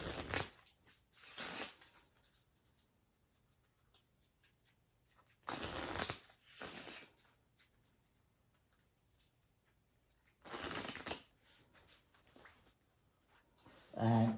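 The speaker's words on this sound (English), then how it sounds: "Let's shuffle these up" Playing cards being shuffled for a tabletop card game, in a few short bursts of riffling and ruffling separated by quiet gaps, close and fairly soft.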